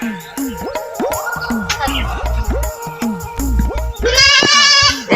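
A goat at a wedding gathering bleats repeatedly in short, wavering cries close to the microphone, with a higher, longer bleat near the end.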